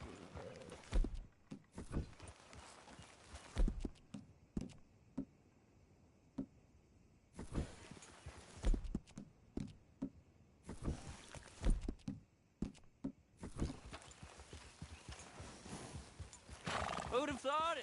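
Rhythmic clip-clop of hooves at a quick pace, with a horse neighing, in bursts separated by quieter stretches, from the video game Red Dead Redemption 2 on PS4.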